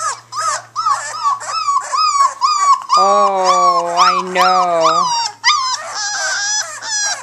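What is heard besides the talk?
four-week-old Cane Corso puppies howling and whimpering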